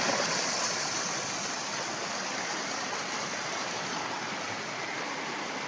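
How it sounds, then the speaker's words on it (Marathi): A rain-fed waterfall pouring steadily, a dense unbroken roar of rushing water, close and even in level throughout, with no voices. "हे पाहून घ्या ओरिजिनल धबधबा. डायरेक्ट छान पिर पाणी येत आहे."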